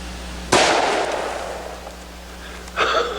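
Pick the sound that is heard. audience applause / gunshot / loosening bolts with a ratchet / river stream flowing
gunshot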